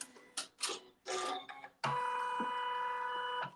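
An embroidery machine stitches a tack-down seam on quilt fabric for a log cabin block, a close, steady whirring buzz with fast rhythmic needle clatter, after a few short mechanical clicks and whirs as it starts.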